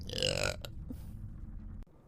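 A woman livestreaming as a VTuber lets out a single loud, close burp at the start, followed by quiet room noise and a faint voice.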